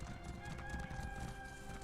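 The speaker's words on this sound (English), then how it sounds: "Alright, find Arlette the chicken." A hen clucks and crows in the video game The Elder Scrolls Online, faint fowl calls over a low in-game ambient drone with steady tonal background music.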